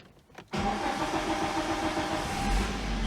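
Geely CK car engine with a fault cranked and started, a brief cranking burst giving way to a steady loud running idle with rising revs near the end, no talking.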